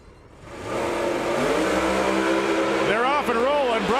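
Drag racing cars, Antron Brown against Joel Wensley, launching at Bradenton Motorsports Park: a loud, sustained engine roar builds and holds, with rising engine pitch sweeps near the end and a commentator talking over it.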